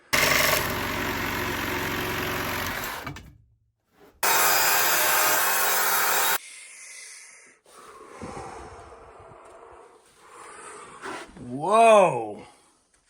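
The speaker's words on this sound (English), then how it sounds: "I'm gonna have to do this with the Sawzall." A Sawzall reciprocating saw cuts through log timber during an off-grid log cabin build, giving loud, sustained rasping bursts in two long stretches with a short pause between. Quieter handling noise and a voice follow afterward.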